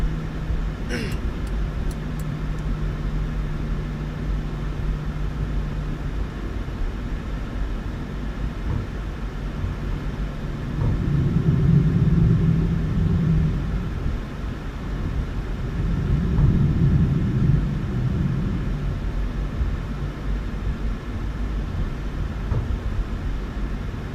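Airliner takeoff roll in Microsoft Flight Simulator 2024, a steady low engine rumble that swells in two broad surges as power builds, with a faint tonal hum underneath and no talk.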